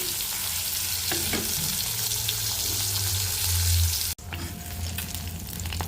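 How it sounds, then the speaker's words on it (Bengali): Singhi fish fries steadily in hot mustard oil in a wok, a dense continuous sizzle with a brief break near the end before the crackling resumes, close and loud with no voices. "মাছটা ভালো করে ভেজে নেব।"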